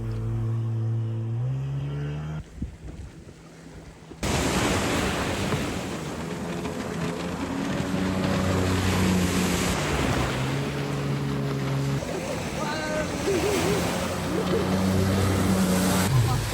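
Steady boat engine drone and rushing wind over the sea, with waves slapping against a hull; a voice briefly talks near the start before the motor noise takes over.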